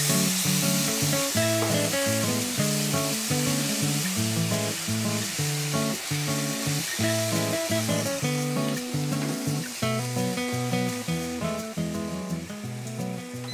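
Tomatoes hiss and sizzle in a hot frying pan for chana masala, a steady close spitting crackle that persists throughout, layered with faint background music and no speech.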